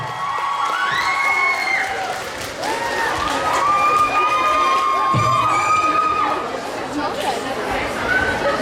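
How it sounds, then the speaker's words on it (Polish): An audience at a dance awards ceremony cheers and applauds loudly, with children shouting and excited crowd chatter filling the hall throughout. "Wielkie brawa!"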